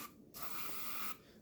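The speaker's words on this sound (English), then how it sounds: "I'm going to take my lubrication. I'm going to spray it on each and every part." Lubricant sprayed from an aerosol can onto parts of a disassembled Rock Island VR-80 shotgun, a single close, faint hiss lasting under a second, with quiet pauses before and after.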